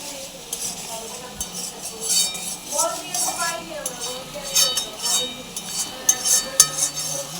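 A pan of garlic and spice masala with turmeric and salt is stirred over a high gas flame, with sizzling, scraping and clinks of a utensil. Someone talks over it throughout.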